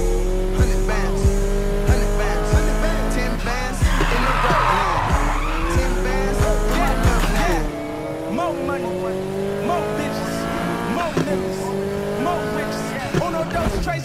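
Race car engines roar and tires squeal during a race in the video game Need for Speed Heat, with revving, shifting engine tones and a burst of skidding, over background music and some talk.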